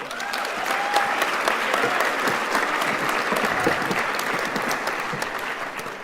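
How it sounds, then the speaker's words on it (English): Sustained applause from a large audience at a humanities faculty graduation ceremony, honoring an honorary graduate and diplomats; dense, even clapping fills the hall steadily throughout with no talk over it. "Please give them a round of applause."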